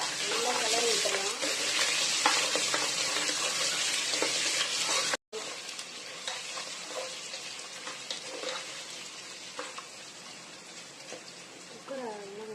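Ingredients, including ginger and garlic, sautéing in a pan for chicken majboos, a continuous close sizzle and frying hiss with stirring scrapes, briefly cut off once and quieter afterward, under a voice talking.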